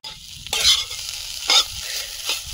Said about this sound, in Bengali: মাছের ঝাল হয়ে গেছে, নামিয়ে নিয়ে শাকটা ভেজে নেব